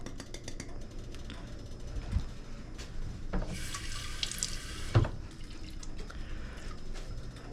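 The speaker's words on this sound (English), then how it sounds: "We are, of course, gonna give this a nice rinse out with that water." Water runs from a kitchen tap to rinse out a jar, a steady splashing flow that swells louder for a second or two as the jar fills, with a few clinks and drips before and after.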